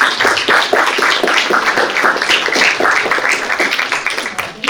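Steady applause from an audience at a League of Women Voters candidate forum in Niskayuna, dense clapping that holds for several seconds before thinning toward the end.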